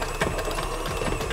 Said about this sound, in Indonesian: agak kerja keras ya si mixernya